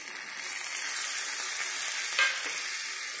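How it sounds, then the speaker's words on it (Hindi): Tomatoes added to a pan of egg manchurian with capsicum, a dense, even frying hiss with one brief louder burst near the end, no talking. "अब इसमें मैं टमाटर को डाल लेती हूँ"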